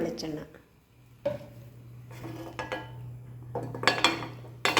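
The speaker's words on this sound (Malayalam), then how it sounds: "ഞാനിത് ഓണാക്കി പാൻ വെച്ചിട്ടുണ്ട്." A metal pan clanks onto a gas stove in a home kitchen, a few short knocks and scrapes of cookware, with a steady low burner hum underneath and brief voice sounds around them.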